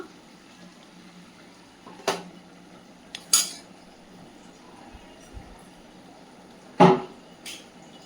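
A lid comes off a pot of cooked chicken sukka with a few sharp, separate metallic clanks and clinks, close and fairly loud, over a quiet low hum.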